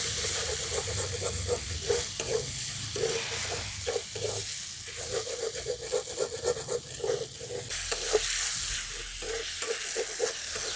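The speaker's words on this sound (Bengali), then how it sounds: "এবার সব মশলাগুলো ভালো করে কষিয়ে নেব" Spices sautéed with chicken and onion in a pan: a soft sizzle with a steady rhythm of stirring strokes, fairly close and quiet, with no talking.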